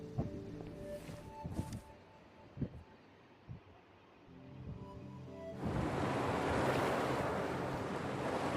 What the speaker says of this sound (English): The water is going down.